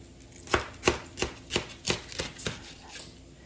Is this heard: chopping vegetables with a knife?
yes